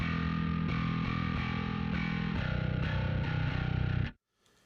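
Gritty distorted bass guitar through a Line 6 Helix cab simulator, chugging steady repeated notes, thick and loud, then cutting off abruptly into near silence.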